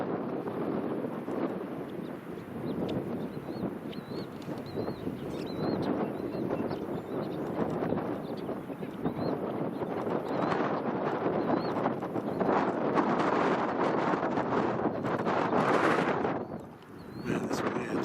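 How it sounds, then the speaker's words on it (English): Strong wind buffets the microphone in continuous loud rumbling gusts for the whole stretch, rising and falling, outdoors on an air rifle hunt, with muffled voices faintly under the roar. "Man, this wind, very, very windy."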